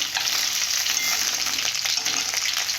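Fish frying in hot oil, a dense, continuous crackling sizzle that stays loud and close without pause, with no talking.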